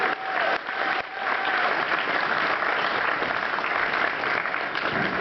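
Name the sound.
audience applause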